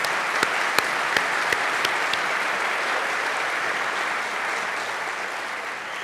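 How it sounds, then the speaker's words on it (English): Audience applause for the UMSL Hero Award recipients at the University of Missouri–St. Louis State of the University address: a broad, steady wash of clapping that holds throughout, with a few sharper individual claps standing out early on. "Let's give a round of applause to the 36 UMSL Hero Award recipients"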